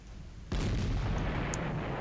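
Artillery fire in a World War II strategy game set around Berlin: a sudden heavy blast about half a second in opens into a loud, sustained rumbling roar that fills the rest of the moment.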